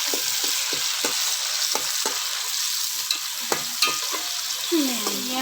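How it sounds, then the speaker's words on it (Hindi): Garlic ginger paste fries in a pan with a steady, close sizzle, while a spoon stirring and scraping against the pan adds repeated clicks and taps throughout. "ये लहसुन अदरक का पेस्ट जो हमने पहले आपको नहीं बताया, ये अब हम डाल दें।"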